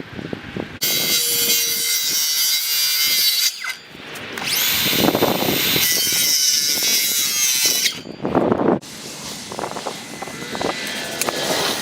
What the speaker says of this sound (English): now I got to notch the corner of the OSB to fit that area